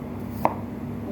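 A single crisp knife stroke through a potato on a cutting board, one short close chop standing alone over a quiet room hum.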